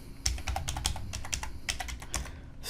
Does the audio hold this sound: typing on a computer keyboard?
yes